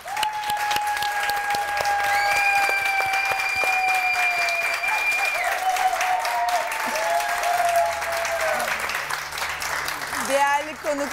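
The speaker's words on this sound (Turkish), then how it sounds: "bugün bu alkışlar İnanın bu konuklara gidecek" Studio audience applauding on a Turkish TV talk show, a steady sustained clapping from a crowd that carries through the whole stretch, with music tones running alongside and no one speaking.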